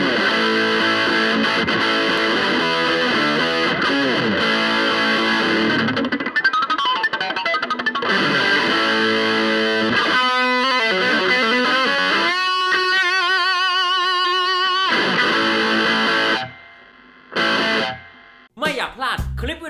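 An Epiphone Les Paul Special-II electric guitar played through heavy distortion, loud sustained chords and riffs ringing continuously before cutting off into short stabs near the end.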